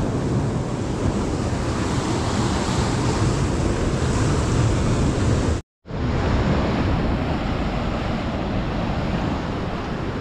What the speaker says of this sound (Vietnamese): Giờ sóng to quá